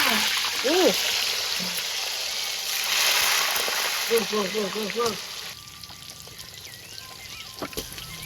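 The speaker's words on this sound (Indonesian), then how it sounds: "Tahunya digoreng." Tofu pieces fry in hot oil with a steady, hissing sizzle throughout. Brief tonal, voice-like sounds rise over the sizzle near the start and again midway.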